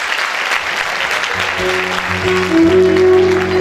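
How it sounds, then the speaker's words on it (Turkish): Loud concert audience applause for the orchestra at a live show in İzmir, dense clapping throughout with music notes starting to emerge beneath it midway. "Orkestramıza en çılgın alkışı istiyorum."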